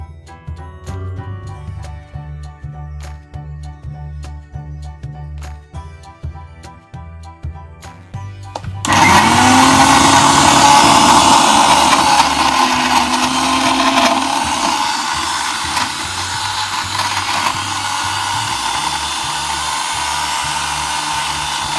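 A blender grinds a chicken shami kabab mixture, starting abruptly after a quiet stretch of low mechanical hum, then running as a loud, continuous whirring roar that eases slightly in pitch and level as it keeps going.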